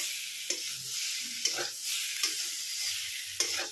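Potatoes and shrimp fry quietly in a pan, a soft steady sizzle with occasional stirring clicks and scrapes, close by and without speech.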